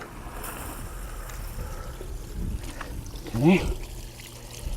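Water flushes through the laterals of an Orenco AX20 AdvanTex septic system in test mode, a soft steady trickle and gurgle under low background noise, with a brief spoken word partway through.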